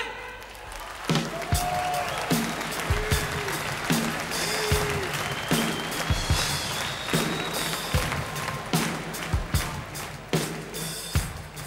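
Audience applauds steadily for a Norwegian rock singer at a live concert, a sustained wash of clapping with a few louder claps and a brief voice heard over it.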